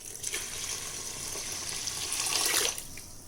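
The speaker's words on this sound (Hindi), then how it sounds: "पानी डाल दिया मैंने, चावल डाल दिया।" Water pours steadily into a Panasonic rice cooker pot holding rice, a continuous close splashing stream that swells near the end and then stops.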